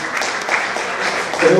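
Audience applause at a Spanish-language science talk on anemia and malnutrition, a steady patter of clapping that holds for under two seconds with a slight rise near the end and some voices mixed in.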